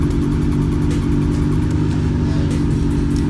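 A Honda Civic with boost on a dyno holds at high load against boost cut, a loud continuous engine roar with rapid stuttering pulses from the limiter, close and without talk.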